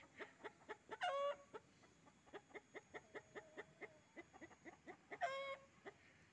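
Chickens cluck in a steady run of short, soft notes, with two brief louder squawks breaking in; the sound is faint and fairly distant.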